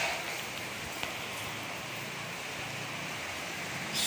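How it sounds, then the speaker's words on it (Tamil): Steady rain keeps falling outdoors during a storm in Chennai, a dense continuous hiss of drops on surfaces that holds at an even level for the whole stretch, with no voices. "மழை ஸ்டார்ட் ஆகிடுச்சு மறுபடியும்."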